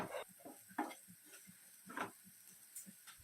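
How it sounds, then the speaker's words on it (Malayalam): A spice masala being stirred and roasted in a pan for egg pepper fry, with soft scraping strokes and a faint sizzle coming in short, irregular bursts, close and quiet, with no talking. "വീണ്ടും തുടരെ ഇളക്കി നമുക്ക് ഈ മസാലക്കൂട്ട് കൂടി ഒരു രണ്ട് മിനിറ്റ് നന്നായിട്ടൊന്ന് മൂപ്പിക്കാം"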